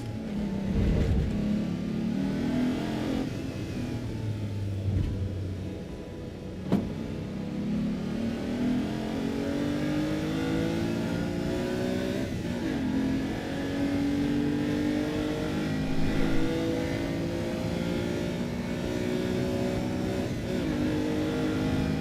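A vintage car engine in Assetto Corsa EVO revs and drones continuously, pitch rising and falling through gear changes, with a synthetic, game-like tone and no talking.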